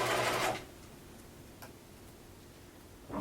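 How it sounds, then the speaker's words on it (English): A sewing machine stitches a collar onto a blouse in one short, steady whirring burst of about half a second, followed by a quiet room and a single faint tick, then the motor starts again briefly at the end. "we're just going to stitch along the collar itself, stitching it to the blouse"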